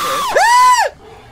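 A voice imitating a girlish squeal, a short high-pitched rising-and-falling shriek lasting about half a second, loud and close, then cut off.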